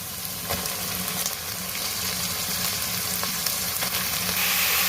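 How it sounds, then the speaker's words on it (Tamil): Chicken pieces fry with ginger garlic paste in a hot pan, making a loud continuous sizzle with faint stirring scrapes. Close and steady, no voices. "நம்ம வச்சுருந்த சிக்கனை போட்டுக்கலாம்."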